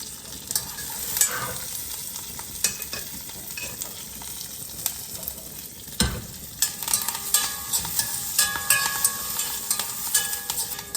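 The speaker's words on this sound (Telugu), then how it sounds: "శనగపప్పు మినప్పప్పు అన్నీ వేగిపోయాయి" Chana dal and urad dal frying in hot oil, a steady close sizzle with scattered crackles and stirring scrapes throughout, no talking.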